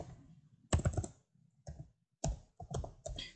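A computer keyboard is typed on in several short bursts of quick clicking keystrokes, close and fairly quiet, separated by brief pauses, with no voices.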